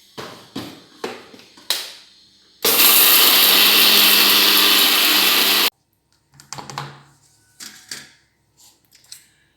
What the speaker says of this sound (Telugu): మిక్సీకి వేసేసుకుందాం